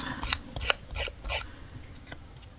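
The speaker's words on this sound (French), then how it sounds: "pour abîmer, je fais juste ça hein, avec mes ciseaux. Je gratte" Scissors scraping along the edges of a paper card for a shabby vintage scrapbooking effect, several short rasping strokes in quick succession, close and fairly quiet.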